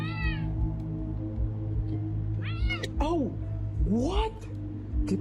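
A cat lets out several drawn-out, wavering meows close by, agitated and rising in pitch, over a steady low indoor hum as it reacts to a man.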